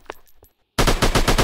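Burst of rapid automatic gunfire in a shooting video game, loud and close, starting abruptly after a brief quiet stretch with faint sounds and repeating in quick, dense shots.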